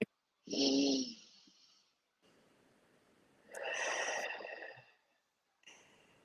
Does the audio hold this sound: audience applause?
no